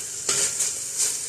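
Vegetables tipped into chicken cooking in a hot pan for chow mein, a steady bright sizzle with a couple of louder hissing bursts and faint stirring scrapes, close up and without talk.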